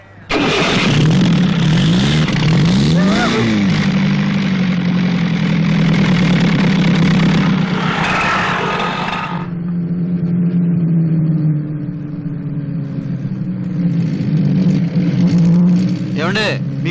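An old car, said to have a first-class engine but a loud one, rumbles at a loud close idle and revs, with voices talking over the engine noise.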